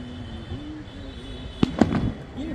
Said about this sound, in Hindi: परिंदे इन पटाखों से डर जाते हैं